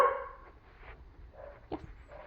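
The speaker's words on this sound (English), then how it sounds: "He's got the distraction of my dog's barking right now." A dog barks once sharply at the start, with a few softer yips and whimpers following during indoor obedience training, no talk heard.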